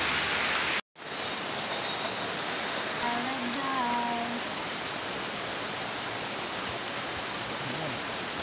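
Steady rain pours down in a dense hiss, broken by a brief cut near the start, with a faint voice heard in the background.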